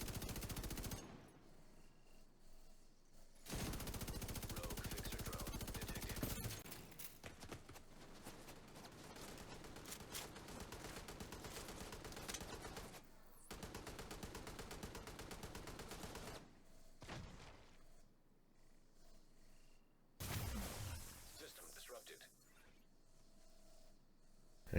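Bursts of automatic gunfire from The Division 2 rattle in long sustained strings separated by short pauses, with a foam grenade trapping the target, loud and continuous for most of the stretch.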